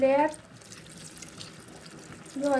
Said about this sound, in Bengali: আমরা এবারে এতে একটু জল দেব পরিমাণ মতো।